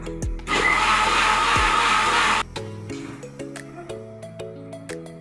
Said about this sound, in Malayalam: ഇവിടെ നമുക്കിത് ബ്ലെൻഡ് ചെയ്യാം.